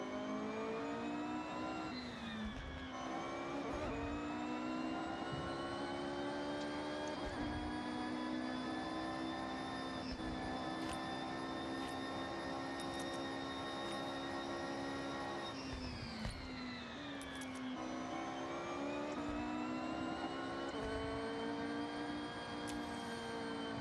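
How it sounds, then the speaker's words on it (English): Car engine in the racing game Forza Horizon 6 driving through a tunnel, a sustained harmonic drone that climbs in pitch through the revs. Brief dips around shifts break it up, and no voices are heard over it. "Here, I'll go through a tunnel so y'all can hear this."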